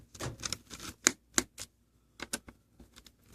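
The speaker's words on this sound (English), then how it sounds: "go after the screws on this panel here. Turn them until they click." A screwdriver turning the captive screws on the bottom panel of a Lenovo P50 laptop, giving a series of close, small clicks and ticks in irregular bunches with short pauses between them.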